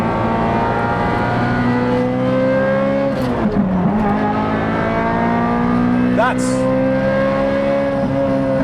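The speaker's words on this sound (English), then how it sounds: "with the exhaust valves open, and I've got to say, you can see by the grin on my face, oh my God, this is what a V8 Ferrari is all about." A Ferrari 355 V8 with Tubi and Capristo exhausts, valves open, howls close and loud while driving on a road, with rising and falling revs. A voice briefly speaks over it.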